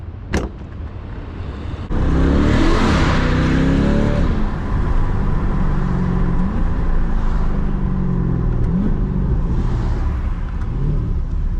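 A loud C8 Corvette engine revs hard from the driver's seat on the road, a sharp start followed by a sustained growl with rising and falling gear sweeps.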